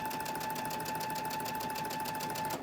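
A sewing machine stitches a leftover fabric strip at 2.5 stitch length with a scant quarter-inch seam, a fast, even mechanical chatter running close and continuously with no voices.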